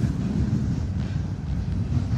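Steady, loud low-frequency rumble and rattle of a Toronto subway train car in motion, continuous and even throughout with no voices.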